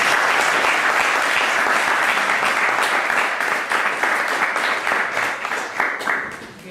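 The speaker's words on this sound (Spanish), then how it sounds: "Se le va a dar un aplauso." At the close of a lecture, an audience breaks into loud, sustained applause, a thick wash of many hands clapping that holds steady before starting to fade in the final seconds.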